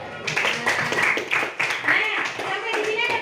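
A classroom group claps together in a short burst of hand claps, fairly close and lively, mixed with children's voices and chatter.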